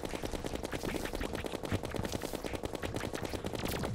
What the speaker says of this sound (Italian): Ecco, inizia a sparare veloce.